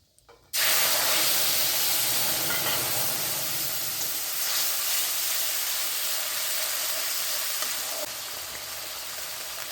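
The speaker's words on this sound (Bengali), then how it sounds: "তো মশলাটা এখন আমি দিয়ে দিচ্ছি।" A paste of ground cumin, ginger and tomato hits a hot pan and bursts into a loud, dense hiss that holds steady for several seconds before easing slightly near the end.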